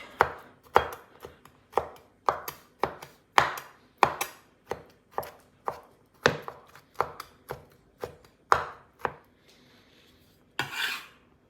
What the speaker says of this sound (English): now we just chop